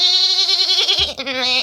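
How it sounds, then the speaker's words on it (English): A lamb bleats loudly and close, one long wavering cry that breaks and rises again near the end. "but the sound of lambs"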